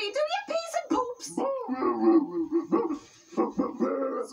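A dog barks and yips at a bush in a comedy sketch, its sharp repeated barks mixed with whimpers running nearly continuously and close, alongside voices.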